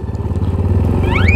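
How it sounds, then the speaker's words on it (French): Motorcycle riding through powder snow, its engine close and loud with a fast, steady pulsing chug, with a brief rising whine near the end. "J'ai l'impression que la moto se débrouille mieux sur de la poudreuse."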